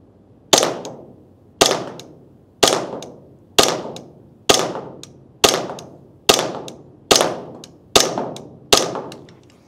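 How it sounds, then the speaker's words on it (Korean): A TTI XR Combat Master pistol fires ten rounds at a target 7 m away, ten loud, sharp shots spaced about a second apart at a steady rhythm, each with a short ringing decay, close and alone. "10발 사격."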